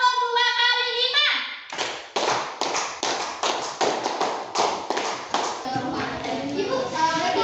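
Classroom of children performing a multiplication clapping game, a long run of about a dozen crisp, evenly spaced group claps after a sung lead-in, with young voices chanting over the end.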